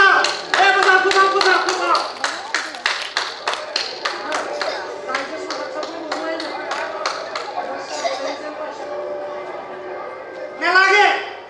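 A theatre audience at a staged Assamese play claps in a burst of sharp, rapid hand claps that thins into scattered claps, with voices speaking over it.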